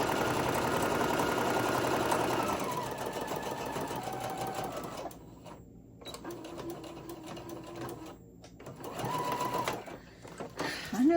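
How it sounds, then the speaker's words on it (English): Sewing machine stitching a Halloween tote bag, running in bursts with a steady whirring drone, then stopping and restarting several times; a faint voice briefly talks in the pauses. "I know there's a lot of sewing machines out there that are fast sewing machines, but I don't think mine is one of those."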